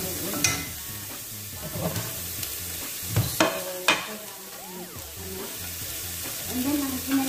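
Onions sizzling and being stirred in a pan while cooking kabsa, a steady frying hiss broken by several sharp clatters of stirring, with no talking.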